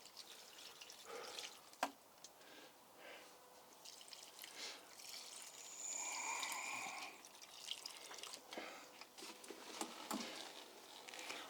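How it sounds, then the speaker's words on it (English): Gentle splashing and pattering of water poured onto soil and strawberry plant leaves, soft and close, with scattered drips and a brief clunk. "Just give these strawberries a little bit of water."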